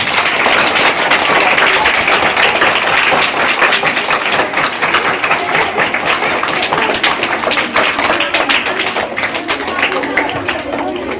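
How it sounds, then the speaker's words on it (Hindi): An audience at a high school program breaks into steady applause, dense rapid clapping from many hands that stays loud throughout and tapers slightly near the end, with a few voices faintly mixed in. "चलो ताली बजना चाहिए ना"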